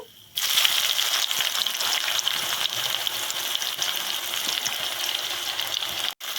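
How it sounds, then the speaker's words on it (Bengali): Chopped onions drop into hot oil with whole garam masala spices and bay leaf for Bengali mutton kosha, setting off a sudden, steady, close sizzle that continues throughout with a brief break near the end. "এরপর আমরা পেঁয়াজ কুচিগুলো দিয়ে দেব।"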